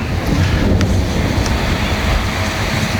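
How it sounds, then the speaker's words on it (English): Thunder rolls over Singapore during an outdoor field hockey tournament, a continuous loud low rumble blended with wind-like hiss. "as you can hear, that is the thunder that is rattling around all over Singapore"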